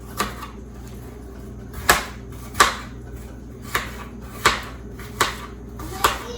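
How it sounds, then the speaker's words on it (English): A knife slices through an apple into thin pieces on a cutting board, giving about seven sharp, separate chops at an uneven pace, close and clear with no talking over them. "we cut nice thin apple slices, and then I'm going to turn it over to the side and cut them once more"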